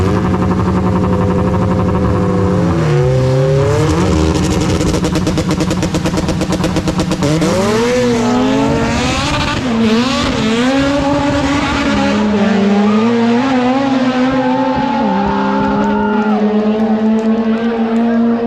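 Two built supercharged K-series Honda Integra race cars, a red hatch and a black one, accelerating hard: loud engine howls climb through gears with shifts and dips, close and continuous, with voices faintly beneath.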